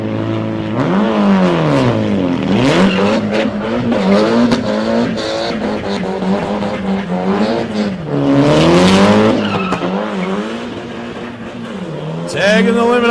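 A drag racing car at the Casterton street drags revs hard and spins its wheels, its engine rising and falling repeatedly to the limiter with loud, close, sustained roars and tyre noise, while a commentator talks over it.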